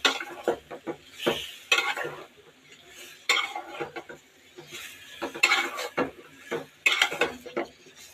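Chopped jali (gourd) is mixed into fried spice masala in a pan with a spatula, giving repeated close scraping and clattering strokes with a faint sizzle between them.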